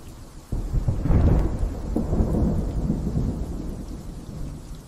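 Thunder in a rainy, dramatic cinematic scene: a heavy rumble breaks in suddenly and rolls on over a steady wash of falling rain, loud and close.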